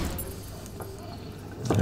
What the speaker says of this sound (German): ich brauche den Schlüssel, den Autoschlüssel.